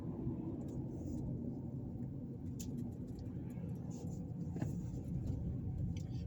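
Steady low road rumble from a car driving through Gary, Indiana, along West 5th Avenue, a continuous near engine and tyre drone with no talk.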